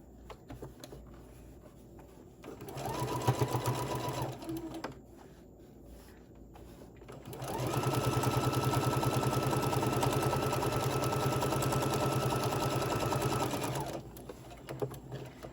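A domestic sewing machine stitching fabric for a face mask runs in two bursts, a short run followed by a longer steady whirring stretch, close and fairly loud, with quiet pauses between.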